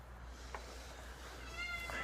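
A cat meows a couple of times nearby, short faint cries over a steady low hum in an indoor space, with no talk.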